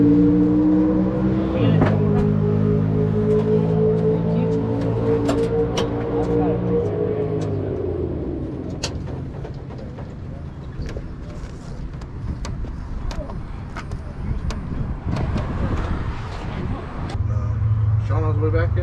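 A gray no-prep drag race car's engine revs loudly and close, its pitch climbing and falling, then settling into a rough idle with voices mixed in.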